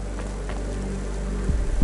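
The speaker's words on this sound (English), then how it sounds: "Don't let all the rain get you down." Rain falling in the video game Cloudpunk on PS5, a steady hiss of downpour with a low rumbling bed and a few heavier thuds near the end, no voices.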